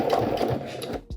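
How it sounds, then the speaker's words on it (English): A sewing machine runs a second line of stitching down the seam of a small EDC pouch. It gives a steady, close, continuous mechanical whir with rapid needle rhythm, stopping abruptly near the end. "I'm gonna go ahead and just do a second layer of stitching all the way down."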